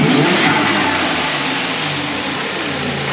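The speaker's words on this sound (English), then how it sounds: "Yeah, a little compressor surge." A car engine revs hard through a turbocharger fitted with a ceramic turbine wheel, giving a loud, steady roar with a fluttering compressor surge, close up and continuous, with no talking.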